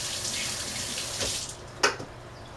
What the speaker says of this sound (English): Let me rinse my hands quickly because I was working with raw egg and